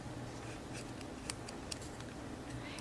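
Marker coloring around the edges of a folded book-page paper pocket makes a faint, steady scratchy rubbing of the tip on paper, with a couple of light taps.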